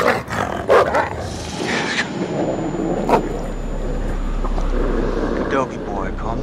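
A dog in the video game Until Dawn barks and growls in a few loud, close bursts, mixed with game noise and a low rumble, while people talk over it.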